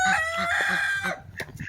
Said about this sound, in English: I am out here letting the chickens out.